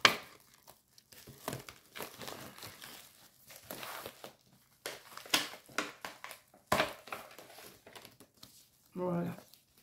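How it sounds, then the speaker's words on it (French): Heavily taped postal parcel being torn open by hand, with crinkling paper and tape tearing in irregular bursts close to the mic, punctuated by sharp rips and rustles. "Je suis obligée de déchirer parce qu'elle a mis tellement de collants que ça a même collé avec les étiquettes."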